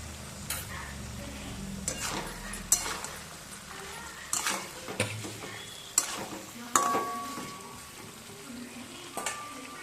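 Fried vegetables and salt go into hot oil in a pan, giving a soft sizzle broken by scattered clinks and scrapes of a spatula against metal, fairly faint and irregular.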